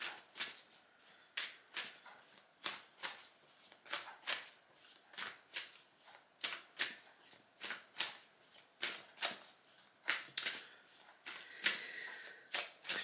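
Tarot cards shuffled by hand in a steady series of crisp riffling bursts, close and fairly quiet, with no talking.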